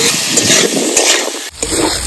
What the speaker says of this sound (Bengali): সব দিয়ে সুন্দর করে আমি এটা ভেজে নেব।